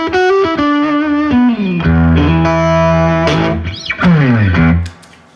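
Electric guitar played through an Archer overdrive pedal, ringing out loud, driven chords and single-note lines with a slightly gritty, sustained tone that fades out at the end.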